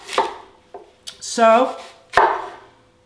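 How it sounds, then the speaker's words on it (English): Apples are chopped with a Cutco knife on a cutting board, giving a few crisp, separate knocks of the blade, with a brief spoken word in between. "Got my handy Cutco knife here, great for chopping"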